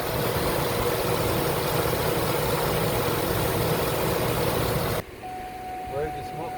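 A Chevy Suburban engine idles with a steady, dense rumble, then the sound abruptly drops away to a quieter hum with a faint tone.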